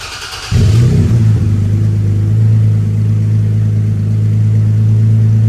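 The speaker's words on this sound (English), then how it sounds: "What does the wife think about my louder Toyota Tacoma exhaust?" Toyota Tacoma pickup with a louder aftermarket exhaust starts up and idles with a deep, steady rumble, loud and close, after a brief quiet moment, with no talking.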